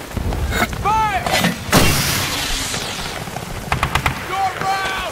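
Artillery fires and shells explode in a World War II battle scene on Okinawa, heavy booming blasts and rumbling impacts mixed with shouted voices calling out over the din.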